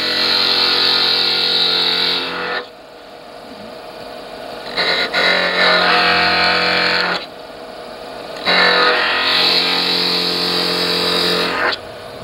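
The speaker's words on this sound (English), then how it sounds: "We're going to drill with the" A lathe whirs steadily while a spindle gouge bores into spinning wood for a balance tray in three long bursts of harsh, buzzing scraping separated by quieter pauses.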